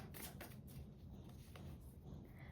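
A deck of tarot cards is shuffled in a steady run of soft, papery riffles and rustles, close and fairly quiet, with no talking.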